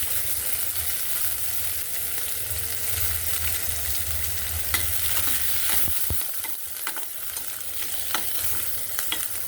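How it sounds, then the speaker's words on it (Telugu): Garlic and green chillies fry in a pan for restaurant-style veg manchurian, a steady close sizzle with stirring scrapes, growing busier with clicks and clatter toward the end. "ముందుగా వెల్లుల్లిపాయలు పచ్చిమిర్చి వేస్తే కొంచెం ఫ్రై చేయాలి"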